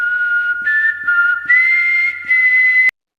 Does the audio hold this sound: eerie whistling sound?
yes